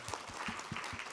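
A small audience at a talk on anime and manga gives a brief round of applause, quiet and somewhat sparse, with individual claps audible.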